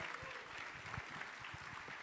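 An audience applauds panelists after a discussion on Indonesia's sustainable growth, a steady wash of many hands clapping heard faintly from a distance throughout.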